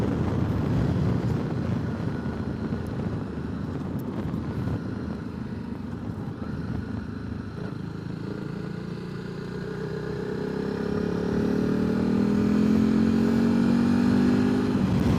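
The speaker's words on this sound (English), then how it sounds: "there's quite a lot of wind noise, I find, I think because of the screen" Wind roars past a rider on a Honda CRF300 Rally motorcycle on Anglesey roads, buffeted by the screen, a constant loud rushing mixed with the engine's drone, which rises in pitch toward the end.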